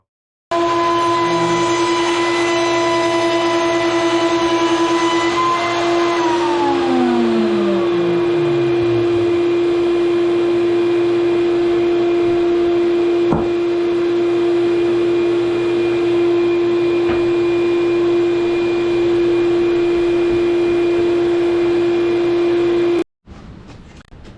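A power sander works over a wooden pinwheel-pattern cutting board clamped to a table, giving a loud, steady motor whine with tonal harmonics; midway the pitch drops as the tool slows, then runs on steadily until it cuts off near the end.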